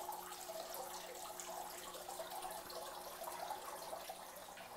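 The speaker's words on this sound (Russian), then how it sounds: "журчание воды, как будто нахожусь где-то в лесу под водопадом." Water gurgling in a home winter garden, a faint, continuous trickling and splashing like a small fountain, steady throughout with no talking.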